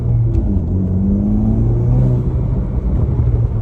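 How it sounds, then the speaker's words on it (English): A car with a manual transmission revs its engine while the clutch is depressed to rev-match a downshift from third gear, approaching a stop sign: a steady, close mid-pitched engine rumble that climbs and holds for several seconds with no talk. "go from the brake to the gas, and get the RPMs to where they're gonna be after I shift down into the gear."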